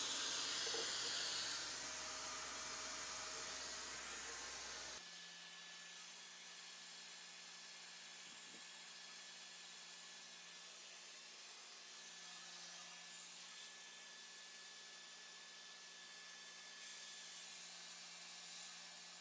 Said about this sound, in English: Test number 3, this is with the air compressor at 30 psi.